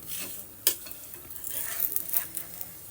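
Flatbread (poli) roasting with oil on a hot pan, giving a soft, steady sizzle with scraping stirs and one sharp clack, close by, with no talking.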